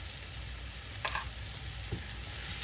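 Zucchini and garlic sizzle in a hot pan with a steady, soft frying hiss, broken by a brief scrape of stirring near the middle; no one speaks.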